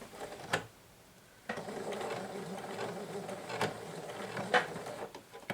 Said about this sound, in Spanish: damos unas puntaditas